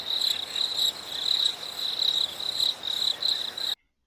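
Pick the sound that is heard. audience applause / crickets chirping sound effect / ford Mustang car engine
crickets chirping sound effect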